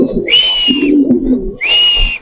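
At a large pigeon farm in Mirpur 13, pigeons close by give low murmuring coos, broken twice by a bright, steady whistle-like tone.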